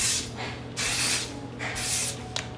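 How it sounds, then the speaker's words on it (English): Hairspray hisses from an aerosol can onto freshly curled hair, three or four close, sharp bursts of about half a second each with short pauses between. "I'm gonna go ahead and spray it with hairspray just to kind of hold"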